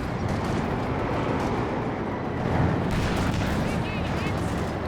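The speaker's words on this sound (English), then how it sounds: "It's a barrage coming through onto the machine gun." Artillery barrage in Company of Heroes 2, a rumbling wash of distant booms and impacts rolling continuously under a commentator's voice.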